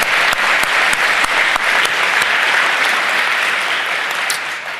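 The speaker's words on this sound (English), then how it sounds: "Give yourself a round of applause." An audience at a live community event breaks into loud, sustained applause, dense clapping filling the room from start to finish.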